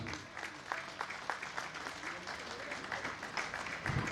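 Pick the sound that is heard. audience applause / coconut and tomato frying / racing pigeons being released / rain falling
audience applause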